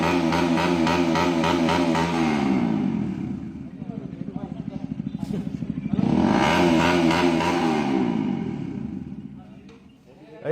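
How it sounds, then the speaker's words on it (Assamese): A modified motorcycle with a very loud exhaust revs hard up close, its throbbing engine note rising and falling in long bursts with a brief drop in between. "যুৱকজনক বাইক মডিফাই কৰি যি বিকট শব্দ সৃষ্টি কৰি"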